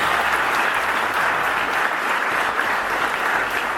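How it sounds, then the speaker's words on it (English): A seminar audience claps for a speaker, a dense, even wash of applause from many hands, loud and close, with no voices over it. "So everybody, give Bruce a round of applause."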